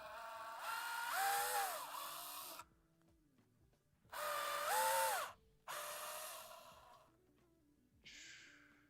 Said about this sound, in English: Just gonna drill out these holes here.